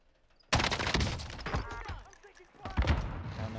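In Call of Duty Warzone, a sudden volley of gunfire breaks out: rapid, dense bursts of shots, close and loud, with a brief lull before another heavy burst.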